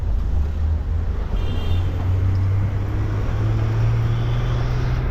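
Steady low rumble of a bus driving through Mumbai at night, heard from the very back seat, a constant engine drone with road noise and a faint whine, no one talking.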